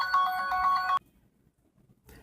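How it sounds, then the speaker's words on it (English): Phone ringtone for an incoming call, a bright repeating melodic chime that plays for about a second and cuts off abruptly, followed by near silence and a faint rustle. "sorry about that phone call."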